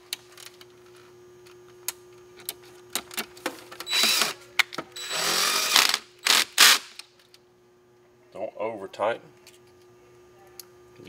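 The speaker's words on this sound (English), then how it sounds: "You see I backed off of my drill, put it on about 4 or 5." A power drill drives screws into a hot tub board in several short bursts with clicks and ratcheting in between, close by, followed by a brief voice.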